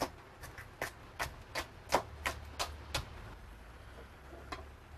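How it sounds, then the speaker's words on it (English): A knife slices a de-seeded jalapeño into thin julienne strips on a cutting board, giving about a dozen quiet, crisp taps in a quick, fairly steady rhythm that fade out near the end. "now you're going to just cut it into nice thin little strips"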